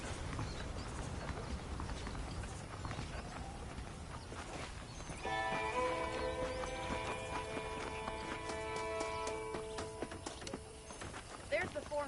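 Horse hooves clip-clop in the Red Dead Redemption video game, a soft, steady walking rhythm throughout. Faint ambience sits underneath, and sustained tonal music enters midway.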